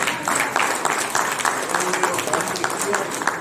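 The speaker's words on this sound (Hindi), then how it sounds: "हम कर्नल साहब के लिए तालियां बजाते हैं।" An audience at a book launch ceremony claps for a Colonel, giving dense, steady applause with crowd murmur and voices mixed in underneath.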